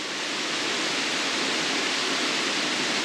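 Rattlesnake Falls waterfall in State Game Lands 221 roars as a loud, dense, unbroken rush of water with no voices.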